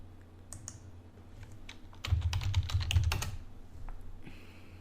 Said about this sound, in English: If I type in